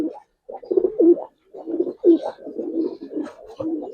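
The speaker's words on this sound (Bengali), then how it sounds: "এটা চুইনা কবুতর ভাই," Giribaz pigeons cooing close by in a run of soft, throaty rolling coos broken by brief pauses, with faint chirps behind and no speech.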